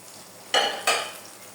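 Beguni, eggplant fritters, frying in hot oil: a faint bubbling hiss swells into two quick, bright bursts of sizzle close by, then settles back to a soft simmer.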